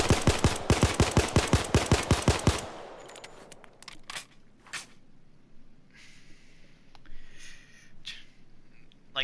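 A Glock 17 pistol in the video game Payday 2 fires a rapid string of about a dozen loud, evenly spaced shots, then falls quiet, with faint clicks and handling sounds afterward.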